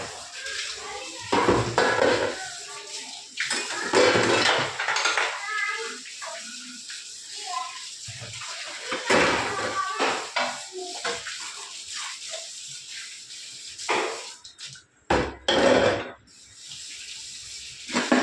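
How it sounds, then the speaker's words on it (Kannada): Dishes, pots and pans washed at a home kitchen sink, running tap water splashing steadily with clinks of utensils, close and continuous, interrupted by occasional louder clatters. "ಎಲ್ಲರೂ ಪಾತ್ರೆನ ಫಸ್ಟು ವಾಶ್ ಮಾಡಿಬಿಡ್ತೀನಿ"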